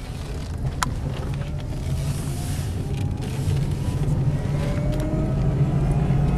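The quiet electric motor of an Ampmobiles electric car whirs softly under a low cabin rumble, with a faint rising whine as the car gets moving in second gear.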